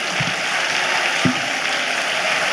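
An audience at a conference keeps up broad, even applause, a continuous wash of clapping with a couple of brief low thumps mixed in.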